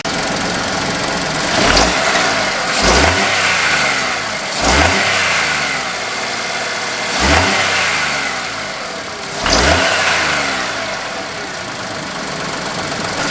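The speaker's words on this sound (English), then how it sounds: "I'll put in a clip I recorded earlier of the car revving before I put this air filter on" A VW Fox 1.2 petrol engine on its stock air filter, recorded close, idling between five sharp blips of the throttle, each rev climbing quickly, then dropping back to a lumpy, slightly knocking idle.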